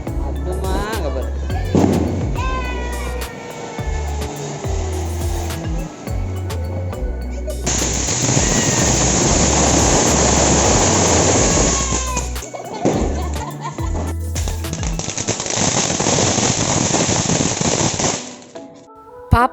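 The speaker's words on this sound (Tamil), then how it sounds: "பாப்பா தான் பட்டாசு வெடிக்கிறத பார்த்து ரொம்ப பயந்துட்டா." Diwali firecrackers burst in rapid sharp volleys, some close and loud, with a long dense crackling string in the middle and scattered pops after, while voices talk and children can be heard amid the noise.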